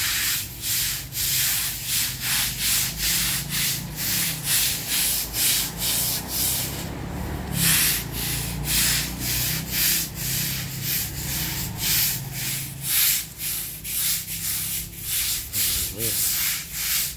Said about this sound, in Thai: ป๋าก็ขัดไปนั่งขัดไป